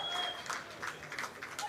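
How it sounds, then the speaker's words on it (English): Crowd at the Betsson Swedish Master padel event applauding in the background, a soft, distant clatter of clapping rising and falling in short bursts. "And you can hear the crowd there in the background"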